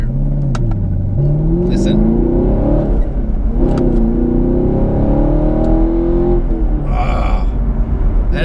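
A 2017/2018 Chevrolet Camaro SS 1LE in sport mode with its exhaust valves open revs loudly, engine pitch climbing in repeated surges over a constant drone, with a brief spoken word near the start.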